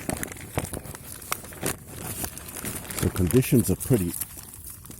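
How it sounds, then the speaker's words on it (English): A plastic wine bag from a boxed wine crinkles and rustles close by at a rainy campsite, in short irregular bursts, while someone speaks briefly over it. "I had to bring wine in one of these plastic bags from a box"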